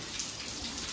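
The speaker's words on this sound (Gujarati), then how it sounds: "ત્યારે વરસાદ ચાલુ છે અને કરણ જો પલળીને મને લેવા આવ્યો હતો" Steady rain pours down as a dense, even hiss of water, close and continuous for about a second.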